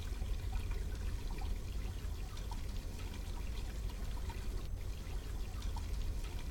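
A steady, close rush of hot water pouring from a tap in the game Black Mirror 2, an even splashing flow that continues alone throughout.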